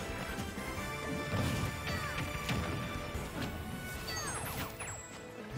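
Heavy hits and smashes from a Super Smash Bros crew battle, a dense wash of repeated impacts and game effects layered over crowd and match noise, steady and loud throughout with no voices.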